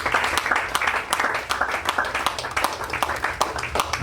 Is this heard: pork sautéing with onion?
no